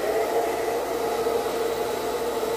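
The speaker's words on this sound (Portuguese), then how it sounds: "Vem aqui perto do secador, vem." A hair dryer blows steadily while drying a curly-haired dog, a continuous loud, even airy whoosh that holds without a break.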